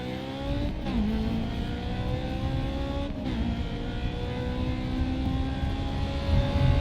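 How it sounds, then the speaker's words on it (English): A Honda race car engine in the racing game Grid 2 revs and screams loudly through gear changes, the pitch climbing, dropping briefly and climbing again, a sustained close engine roar with no talking. "VTEC go burr, that's all I know about Honda engines."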